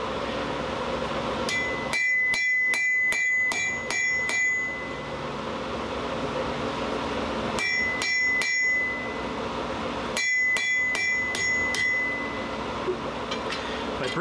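A hammer rings on a steel anvil while a scythe hook is forged, with fast bursts of bright, metallic clanging strikes separated by short pauses, close and loud.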